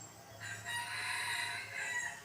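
A rooster crows outdoors during a wild-fowl hunt, one drawn-out crow rising and holding for about two seconds, faint over steady background noise.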